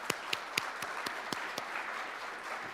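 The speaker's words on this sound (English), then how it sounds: "So let's give them a round of applause" A lecture audience at a legal talk on constitutionalism gives a faint round of applause. A soft wash of clapping runs under a handful of sharper individual claps that stand out near the start, and the whole burst stays quiet and short.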